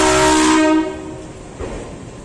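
An accident relief train arrives at platform 1 of Kazipet station, sounding a loud, sustained horn that cuts off abruptly, followed by the lower rumble of the approaching train.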